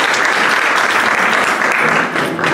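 Loud, dense applause from a banquet audience at a convention fills the room, steady and unbroken with no voices on top.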